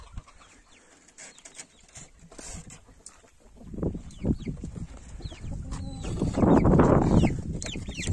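Silver ornamental chickens and roosters clucking inside a chicken tent, scattered soft clucks building into louder, closer bursts of fowl calls later on.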